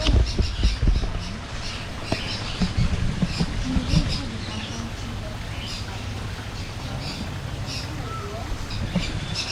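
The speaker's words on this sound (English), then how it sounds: "It's not every day you see a mating bird." Birds squawk repeatedly in a free-flight aviary at a bird park, sharp calls scattered over a busy background with low rumble and some indistinct voices.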